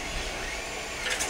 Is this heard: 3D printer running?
yes